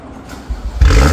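A modified car engine cold-starts with a sudden low, heavy roar, catching briefly and then surging into a loud, close rev.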